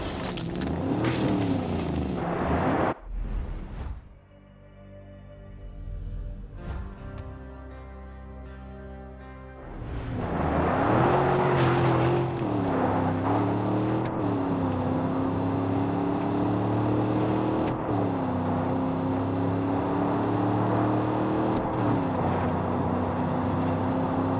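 A video game car engine in Far Cry New Dawn hums and revs, dropping to a lower idle before surging into a sustained, rising and falling drone as the car drives on.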